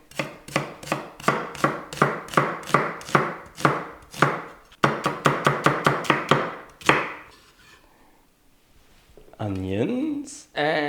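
A knife slicing an onion on a cutting board, a fast regular run of crisp chops with a brief pause midway, then a second burst before quieting; a voice speaks at the end.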